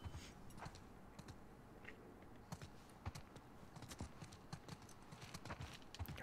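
Horse hooves clip-clop on the ground in the video game The Last of Us Part 2, a steady walking rhythm of moderate, close hoof strikes that runs through the whole stretch over faint background ambience.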